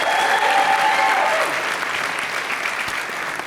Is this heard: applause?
yes